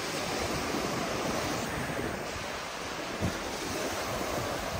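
Sea surf washes steadily onto a clean shore beside a seaside village, a continuous loud wash mixed with wind buffeting the microphone and no talk.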